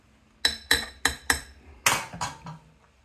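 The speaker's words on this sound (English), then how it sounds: "Give it a nice little stir." Metal spoon clinking against a cup while stirring a latte macchiato: four crisp, evenly spaced taps, followed by a quicker, softer run of scraping clinks.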